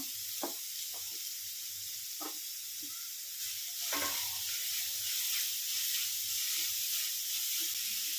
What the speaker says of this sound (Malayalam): ഇതിലേക്ക് ഗ്രേറ്റ് ചെയ്ത് വെച്ചിരിക്കുന്ന ക്യാരറ്റ് വന്നിട്ട് കൊടുക്കുക ഈ ക്യാരറ്റിൻ്റെ പച്ചമണം മാറുന്നിടം വരെ നന്നായിട്ട് വഴറ്റി എടുക്കണം